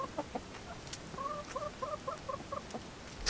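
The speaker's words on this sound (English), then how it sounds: "Hello, chickens." Several chickens cluck in a short run of soft, repeated calls as they come out of their pen, moderately close against quiet outdoor background in the woods.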